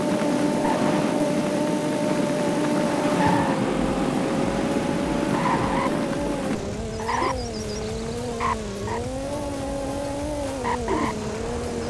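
A video game truck drives off-road on back roads, its engine a continuous droning hum whose pitch shifts up and down, with occasional scuffing and thumps over the terrain.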